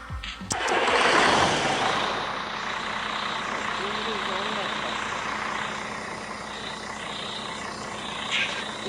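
A truck engine in the Truckers of Europe 3 mobile driving game rumbles steadily at a low, even drone, with a brief louder burst near the start before settling into a constant hum.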